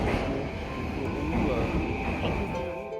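A Tokyo metro subway train rumbles steadily with a dense low drone, hum and faint rattling, continuous and fairly loud, while a narrator speaks over it.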